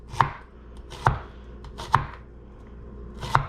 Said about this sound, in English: Okay, I cut the onion in half. Now I'm just making rings.